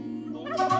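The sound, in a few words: turkeys gobbling in Dwarf Fortress video game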